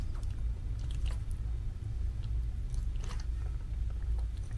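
A black and white Tegu lizard named Mac eats, with soft wet crunching and chewing over a low, steady rumble close by, with faint breathing through a full mouth.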